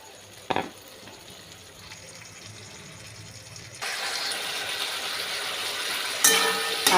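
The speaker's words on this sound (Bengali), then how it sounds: "এখন মশলাটা একটু ভাজা হোক" Spice paste of ginger, cumin and chili powder mixed with water fries in a pan for a banana-flower dish, starting quiet, then a steady loud sizzle after it hits the hot oil, near and alone.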